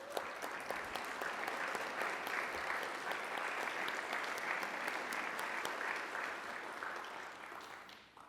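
Steady, sustained applause from a seated audience at a city State of the City event honoring the Planning Commission, rising quickly and tapering off near the end.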